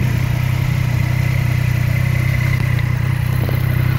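A 2017 Triumph Street Triple RS motorcycle engine idles steadily nearby, its standard exhaust putting out a loud, continuous low rumble with a faint clatter on top.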